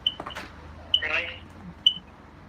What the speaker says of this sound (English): Like a smoke detector low battery thing that you always hear.